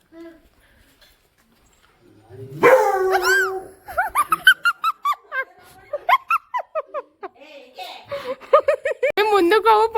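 A dog barks in a rural village home, a few loud, sharp barks mixed in with lively, close conversation from several people.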